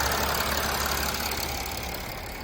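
Mercedes ML 320 CDI W164 with the OM642 diesel engine idling, giving a steady, even, hissing engine drone heard close and alone with no speech.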